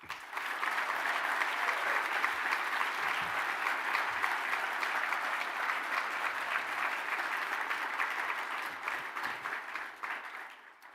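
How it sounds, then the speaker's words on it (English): Sustained crowd applause at an electric vehicle competition awards ceremony, a broad steady clatter of many hands lasting several seconds before tapering off. "Let's have one more round of applause for the teams."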